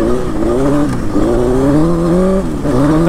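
A Suzuki GSX-R 1000 sport motorcycle rides through curves, its engine droning loud and steady with a rising and falling pitch as the throttle shifts, alone without talk.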